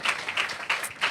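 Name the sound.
audience applauding in worship service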